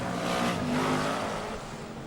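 BriSCA Formula 1 stock cars roar round a track during a 1995 race, a loud engine swell that peaks and then eases slightly as the cars pass.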